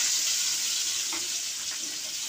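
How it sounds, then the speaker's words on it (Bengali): Chopped onion, sliced garlic and green chilli frying in hot fish oil for a rohu fish chutney, giving a steady close hiss of sizzling with a few faint stirring scrapes, no voices. "ওই তেলের মধ্যে আমি এখন দিয়ে দিব 1/2 কাপ পরিমাণ পেঁয়াজ কুচি এবং 2-3টা রসুনের ফালি এবং 2-3টা কাঁচামরিচ ফালি দিয়ে দিব।"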